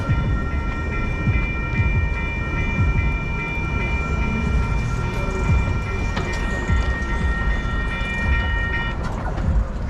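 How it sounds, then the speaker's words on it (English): A Los Angeles Metro Rail train rumbles past loudly and continuously in Old Pasadena, with a deep steady roar and faint high metallic whine from the wheels and tracks. "There goes the monorail, the metro rail, Los Angeles."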